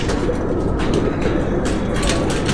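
Firozpuri pigeons coo close by in soft, low, throaty murmurs that overlap continuously over a dense background, with no voices.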